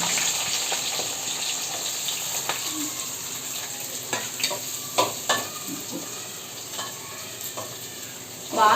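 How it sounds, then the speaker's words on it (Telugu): Chopped onions and green chilies fry in a pan with a loud, continuous sizzle, punctuated by occasional scrapes and clacks of stirring, without talk. "అలాగే తరిగిన 2 ఉల్లిపాయ ముక్కల్ని, ఒక 4 పచ్చిమిరపకాయ చీలికలను కూడా వేసుకోవాలి."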